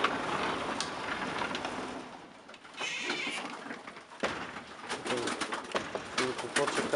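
Pigeons cooing inside a pigeon loft, low repeated coos and rustling nearby, with quieter gaps and a door or handling noise midway, and someone talking at times.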